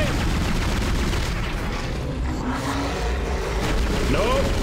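Gunfire in the sci-fi horror game Dead Space during a large boss battle against the Leviathan, a steady dense barrage of shots and rumbling impacts under continuous game noise.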